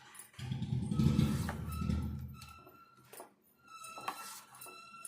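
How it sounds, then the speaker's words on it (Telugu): Sago dosa batter being mixed in a bowl, a close wet sloshing and scraping for the first couple of seconds, followed by lighter clinks and taps of utensils against dishes. "ఈ పిండి అంతా ఒక్కసారి అయితే కలుపుకోవాలి."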